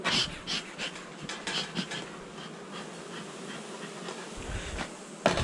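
An opened honeybee hive with the colony clustered inside gives off a steady, close insect hum that holds throughout, with a few louder swells and faint breathy noises near the start and the end.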